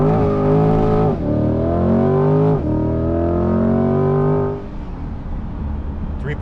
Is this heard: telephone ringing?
no